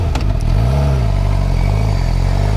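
A 2018 Suzuki GSX-R 750 engine drones loud and close throughout a ride, with a rising and falling rev and steady mechanical rumble under strong wind noise.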